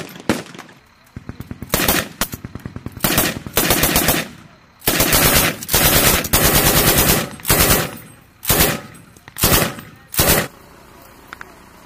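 Bursts of machine gun fire ring out during a military field training exercise, a series of loud rapid automatic volleys separated by short pauses, with faint voices between them.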